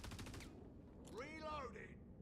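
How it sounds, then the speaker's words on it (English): In Star Citizen, a quick burst of automatic gunfire rattles faintly in the distance. A voice follows, and a sharp click closes the moment. "Are they shooting my corpse?"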